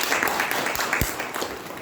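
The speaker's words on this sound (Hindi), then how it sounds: "अपने लिए ताली बजाइए।" A seated audience at a spiritual talk claps along together, a steady dense patter of many hands that runs the whole time, moderately loud with faint room murmur beneath.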